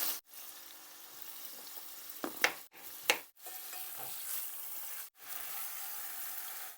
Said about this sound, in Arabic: رح أقلي شوي صدور الدجاج